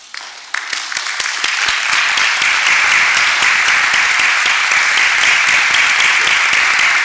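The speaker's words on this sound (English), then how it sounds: "Can we give you a round of applause?" A standing crowd applauds veterans honored as war heroes at a Casimir Pulaski Day ceremony at the Polish Museum in Chicago, clapping swelling after half a second into dense, sustained applause.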